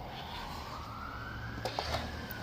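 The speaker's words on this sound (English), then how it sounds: "pardon all the sirens" Emergency vehicle sirens wail outside, a distant rising tone heard through the walls of a room over a low steady hum, with a few faint knocks nearby.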